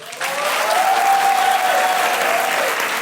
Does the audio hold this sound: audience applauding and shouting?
yes